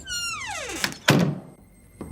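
A front door is pushed open: a falling creaking squeal gives way to a solid thunk, followed by a softer knock a moment later, with no voices.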